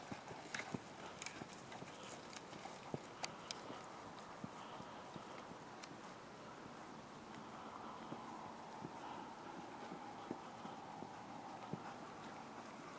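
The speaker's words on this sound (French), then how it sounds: "tu repars au trot tout de suite, tu remontes sur tes rênes, tu repars au trot" Horse trotting in a riding arena during a show-jumping lesson, steady rhythmic hoof clip-clops at close range over a light background hum, alone without talk.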